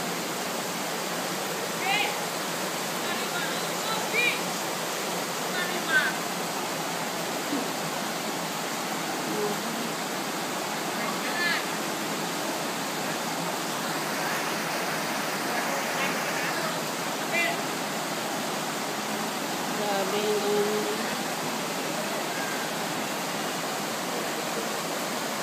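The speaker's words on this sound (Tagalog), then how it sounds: "Ang lakas-lakas ng agos eh, oh." Flood water rushing with a strong current through a flooded neighbourhood in Kawit, Cavite, heard as a steady broadband roar close by, with faint voices now and then.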